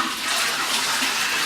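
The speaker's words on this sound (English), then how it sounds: "now I'm going to be flushing the toilet" A toilet flushes during a winter drain-down after antifreeze has gone into the bowl and cistern, a loud, close, steady rush of water lasting the whole moment.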